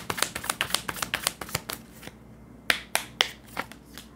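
Tarot cards being shuffled and drawn during a reading, a quick run of crisp riffling snaps that pauses briefly, then a few sharper separate slaps as cards are pulled, close and clear with no talking.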